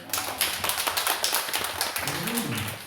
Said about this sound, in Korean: 하나님께 영광 박수 한번 드리겠습니다